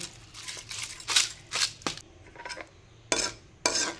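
A spoon stirs bottle gourd payesh, a sweet rice pudding, in a metal pot, making irregular clinks and scrapes in short bursts that are fairly quiet and close.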